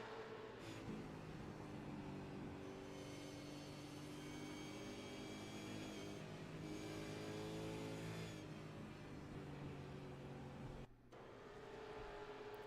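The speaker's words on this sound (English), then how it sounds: "you see Smeal accelerating out of turn number 4 like he's trying to make that move" A race car engine roars continuously from onboard at Bristol in iRacing, accelerating out of turn four, its pitch climbing and falling through gear changes, loud and steady with a brief dip near the end.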